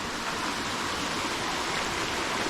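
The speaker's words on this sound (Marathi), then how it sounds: "इथे आपल्याला वाहतं पाणी आहे" Flowing stream water in a rocky channel, a steady broadband rushing wash heard close and constant with no breaks.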